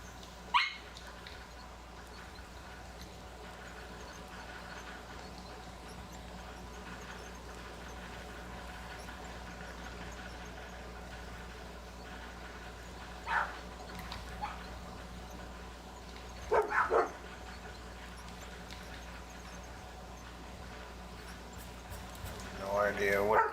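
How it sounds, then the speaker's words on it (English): A dog barks a few times in the distance, scattered single barks and short bursts separated by long stretches of steady low background hum, with a louder cluster near the end. "No idea what they're barking at."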